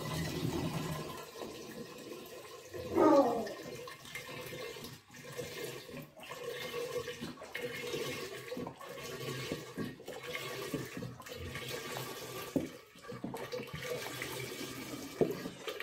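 Fruit wine must is splashed and poured in a container to aerate it for primary fermentation, with a burst of sloshing water followed by ongoing gurgling, trickling and intermittent splashes close by.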